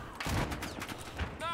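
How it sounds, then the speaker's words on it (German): Gunshots in Battlefield 4 gameplay crack out in quick irregular bursts, close and fairly loud, with some speech mixed in under the firing. "Oh, da wird man wieder beschossen."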